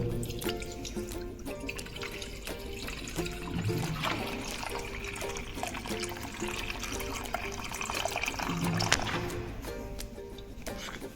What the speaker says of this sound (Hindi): पानी थोड़ा ले लो।